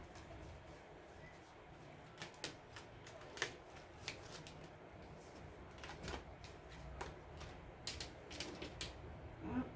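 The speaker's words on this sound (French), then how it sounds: "On mélange un petit peu, on coupe." Tarot cards being shuffled and cut by hand, soft papery riffles and flicks with sharper snaps of the deck, close and fairly quiet, in bursts that grow busier toward the end.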